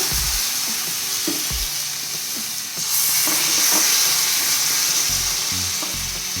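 Steady, loud sizzling of ghavane batter on a hot griddle fills the whole stretch, a hissing fry with occasional clinks of a utensil against the pan.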